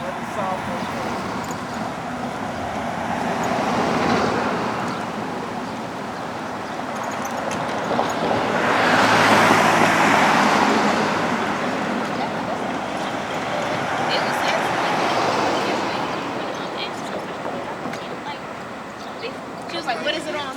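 Road traffic passes beside a sidewalk as a steady broadband roar, swelling as vehicles go by, with one loud pass in the middle and quieter ones before and after.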